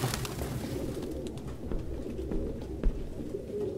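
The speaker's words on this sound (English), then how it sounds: "No human could live with all these fucking pigeons." Pigeons coo steadily in a cluttered apartment hideout in Detroit: Become Human, a low soft murmur from several birds over a dull room hum, with a few brief knocks and no talk.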